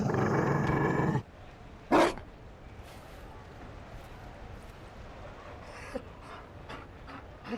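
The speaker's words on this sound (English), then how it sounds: "You found a dog." Mabari war dog from Dragon Age: Inquisition panting softly and steadily in a quiet game scene, after a loud burst of sound at the start and a brief thump, with faint scattered clicks around it.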